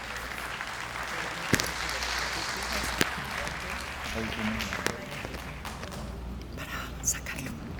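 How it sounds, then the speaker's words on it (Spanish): An audience at an academic conference on the socio-environmental effects of conflict in Colombia applauds to welcome a speaker, a soft, sustained patter of clapping with a few sharper claps standing out and faint murmuring underneath. "La doctora, la recibimos con un fuerte aplauso"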